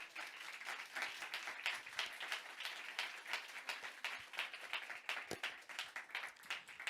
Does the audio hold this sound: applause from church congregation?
yes